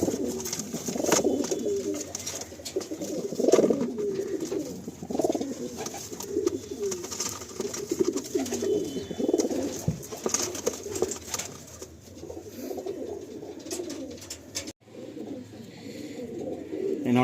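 Andhra breed pigeons coo steadily inside a loft in Kolkata, a dense overlapping chorus of low throaty calls running throughout, close and fairly loud, with a brief dip near the end.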